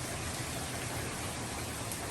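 Heavy rain falls steadily, a dense, even hiss of drops hitting surfaces, loud and continuous with no talking.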